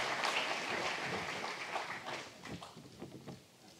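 Audience applause at the closing plenary of a 2022 conference, a dense sustained wash of clapping that slowly thins and fades toward the end.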